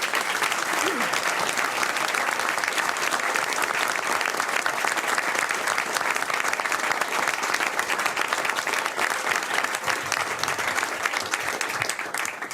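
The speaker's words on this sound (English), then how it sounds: "we will please give them a round of applause" An audience at a university board of governors meeting gives a sustained round of applause for standing honorees, dense even clapping filling the room from start to finish.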